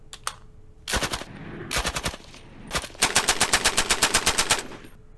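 Automatic gunfire rattles from a tank in a Dwarf Fortress-style tank simulator game, several bursts of rapid shots, with a long sustained burst of evenly spaced rounds at the end.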